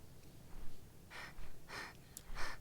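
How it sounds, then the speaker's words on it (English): Female player character in ARK Mobile panting: three soft, breathy gasps spaced about half a second apart, quiet and close over faint background noise. "I love my character just, panting in the background"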